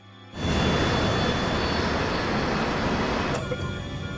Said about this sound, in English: The DC-9 plummets towards the ground at over 700 kilometers per hour.